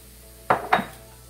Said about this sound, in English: We're going to incorporate the noodles with the vegetables and the tofu